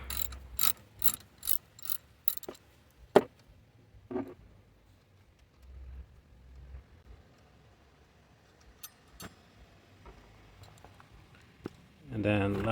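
A hand ratchet works a 10mm bolt loose during a Nissan front vacuum tube replacement, giving bursts of quick, close clicking early on, then scattered single clicks and clunks over quiet pauses, with a louder rumble at the end.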